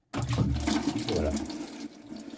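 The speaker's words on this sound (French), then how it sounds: "Je vide bien l'eau." Water pours and splashes out of an anti-limescale filter housing into a sink, a steady close gushing that starts abruptly and runs on without talk.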